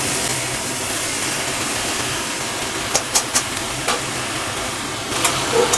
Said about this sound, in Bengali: শাকের সাথে আলু রসুন পেঁয়াজ চিংড়ি মাছ সবই সুন্দর করে মিশিয়ে দিতে হবে